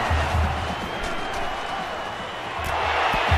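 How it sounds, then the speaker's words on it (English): Stadium crowd roar from the college football game NCAA Football 13, a loud, dense wash of cheering held steadily throughout. "The crowd at a fever pitch right now."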